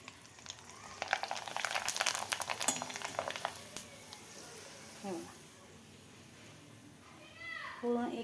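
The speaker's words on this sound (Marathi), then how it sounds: "तळून बघूया." Kurdai fritters fry in hot oil with a dense crackling sizzle that builds and then fades, close by, followed by someone speaking over softer bubbling.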